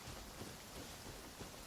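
Steady rain hisses across the whole moment in Genshin Impact, with soft low thunder rumbling beneath the downpour and no voices.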